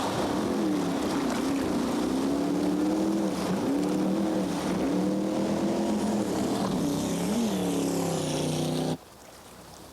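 A racing jetboat roars off the line on the Payette River during a championship race, its engine rising and wavering in pitch as it accelerates away, loud and sustained before cutting off sharply near the end.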